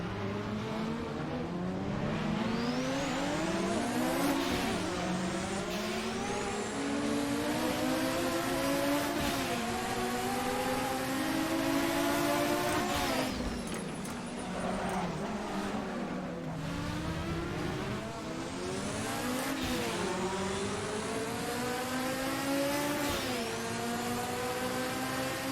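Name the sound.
race car engines revving in Assetto Corsa video game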